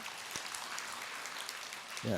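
Applause rises for a student of the 22nd class of a Buddhist college during a monk's Lunar New Year question-and-answer session, a dense, steady patter of clapping that fills the room, with a voice cutting in at the very end.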